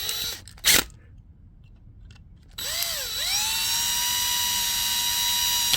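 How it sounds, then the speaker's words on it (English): A high-pitched drill whines briefly, goes quiet, then spins up again with a rising pitch and holds a steady, loud whine to the end. "No, it's going to take a little bit more drilling."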